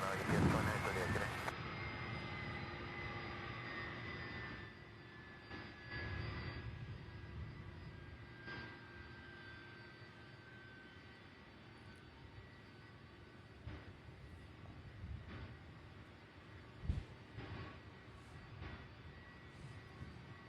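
Airplane engines hum and whine steadily at Louisville SDF airport as an aircraft taxis, heard at a distance under radio chatter and talk, with a brief loud burst at the start and occasional thumps.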